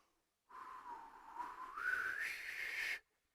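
A single breathy whistle blown across a horizontal finger held against the lips as a brass warm-up exercise. It lasts about two and a half seconds, rising gradually in pitch, and is heard alone with no talk.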